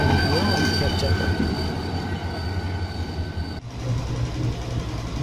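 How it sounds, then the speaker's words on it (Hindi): A railway engine rolls past on the down track at a platform of Landhi station in Karachi, a loud rumbling and clattering pass with a steady drone that shifts as it goes by. "डाउन ट्रैक पे प्लेटफार्म नंबर 2 पे एक इंजन गुजरता हुआ नज़र आया"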